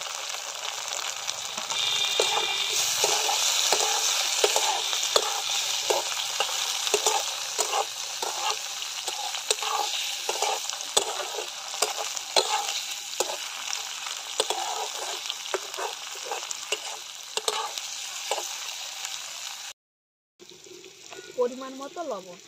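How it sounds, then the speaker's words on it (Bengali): Tomatoes added to a hot pan for egg pasta sizzle and fry steadily while a utensil stirs with repeated scraping clicks, loud and close throughout, with a brief cutoff near the end. "এবার দিয়ে দেবো টমেটো।"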